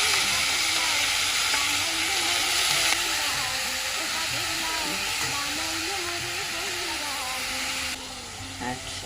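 Bottle gourd (lauki) sizzles and fries in hot oil with cumin seeds, a loud continuous hiss and crackle with stirring, while a voice talks over it.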